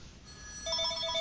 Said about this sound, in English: 1 second, that's my phone.